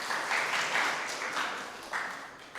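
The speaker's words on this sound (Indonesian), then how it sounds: "Tepuk tangan buat Pak Joni." A church congregation at a Sunday service applauding, a brief uneven patter of clapping that swells in a few waves and stays moderately loud across the room.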